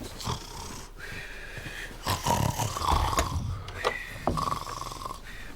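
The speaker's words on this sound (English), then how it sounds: "I heard you snoring" Loud, raspy snoring breaths rise and fall close up, with a wheezy, snorting texture and no talking.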